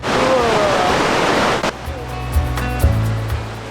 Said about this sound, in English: The first thing you're gonna see when you walk out of the tunnel is some Class 6 Whirlpool Rapids.